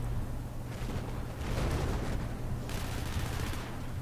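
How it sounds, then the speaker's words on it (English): Dense, continuous gunfire from the video game Battlefield on the Golmud map during a city-versus-city tournament match, with rapid overlapping shots and bursts that swell and thin out throughout. "good shooting by Vixen."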